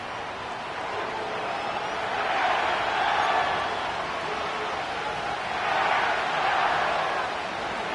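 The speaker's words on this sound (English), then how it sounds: "The crowd is alive and with good reason." Stadium crowd roars in an EA Sports NFL video game set at SoFi Stadium in Inglewood during the playoffs, a steady broad wash of noise swelling twice to louder peaks with no one talking over it.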